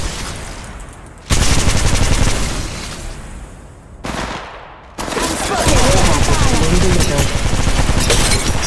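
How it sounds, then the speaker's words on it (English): Automatic gunfire rattles in Apex Legends Mobile in loud, close sustained bursts with brief lulls between them, while game voices speak over it. "Listen up, I'm getting shot at!"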